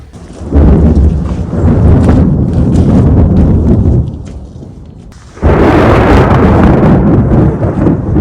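Loud, close thunder rolls through a thunderstorm over an old house under renovation in Portugal, two long rumbling bursts with a brief lull between, heard alone without talk.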